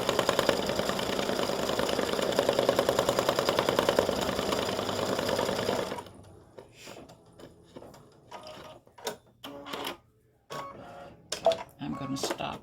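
An embroidery sewing machine stitches on card stock with a steady, dense mechanical whir for about six seconds, then stops and gives way to scattered clicks and handling noises.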